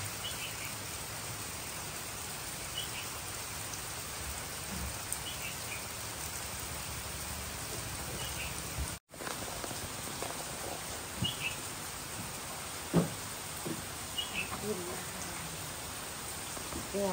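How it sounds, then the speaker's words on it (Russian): Steady broadband hiss of rain falls throughout, with faint bird calls chirping now and then in the distance and a brief dropout midway. "Дождь не помеха в таких делах."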